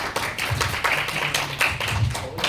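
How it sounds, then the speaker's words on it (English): A small group applauding a speaker at an office gathering, a short run of scattered hand claps, close and moderately loud, with no talk over it. "Big round of applause for him"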